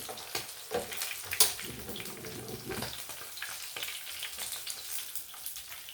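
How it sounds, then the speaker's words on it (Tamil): Fish deep-frying in hot oil crackles and sizzles steadily at close range, with a few sharper pops and clinks from stirring, and no talking. "மீன் நல்லா பொரிஞ்சிருச்சு, எடுத்துக்கலாம்"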